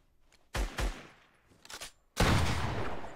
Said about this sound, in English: Get that shotgun sniper going.